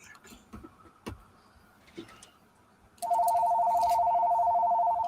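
A telephone starts ringing partway through, a loud, steady electronic tone that continues to the end after some quieter bumps and background knocks.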